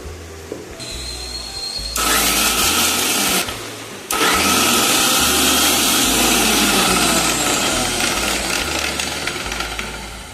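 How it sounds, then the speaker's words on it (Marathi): A kitchen mixer grinder whirs loudly while grinding green chillies and garlic into a paste, running in strong bursts with a brief stop partway through and no speech. "आता मी मिक्स म्हणून काढणार आहे। मिरचीची पेस्ट आणि लसणाची।"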